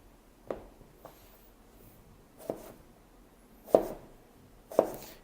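A knife slicing eggplant rounds for Parmesan oven fries makes about five crisp chops against the board, spaced unevenly over a few seconds, one of them faint, with quiet pauses between and no talking.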